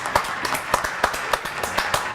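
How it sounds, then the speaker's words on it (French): A studio audience on a French regional television show claps for a contestant named Ménard, a brief burst of fairly loud, uneven handclaps close by. "Applaudissements pour Ménard."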